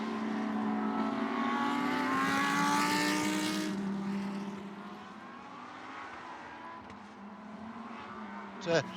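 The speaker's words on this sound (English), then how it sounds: "4 different classes in Lamborghini Super Trofeo, so there's action all throughout the racetrack, all driving the exact same Lamborghini Huracan Super Trofeo Evo 2" Lamborghini Huracan Super Trofeo Evo 2 race cars compete at Virginia International Raceway, their engines roaring loudly and climbing in pitch as they pass, then fading into a steady distant drone beneath a voice.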